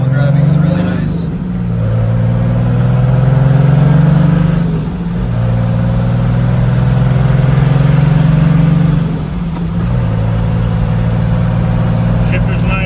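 A turbo diesel 2JZ engine swapped into a Datsun 240Z pulls hard under acceleration, a loud droning roar with a rising turbo whine that climbs through several gear changes, heard from inside the car.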